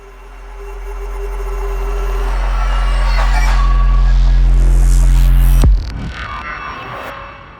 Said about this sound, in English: So today's topic of discussion is these metallic sounds here.